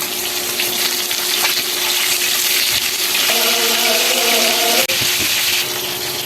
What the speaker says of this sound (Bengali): মাছ ভাজার জন্য কড়াইয়ে তেল দিয়ে দিলাম তেল গরম হয়ে গেছে মাছগুলো এক পাশ ভাজা হয়ে গেছে এবার উল্টিয়ে দিচ্ছি